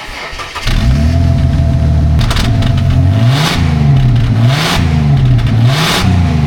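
A worn-out 2001 Ford Falcon wagon engine runs continuously and loudly close up, starting with a rough catch and then holding a steady drone with repeated rising and falling revs.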